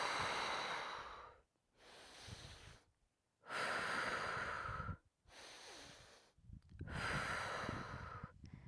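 Deep, forceful breaths in and out during the Pilates hundred exercise on a mat, close and alone, coming in long rushing waves separated by short silent pauses.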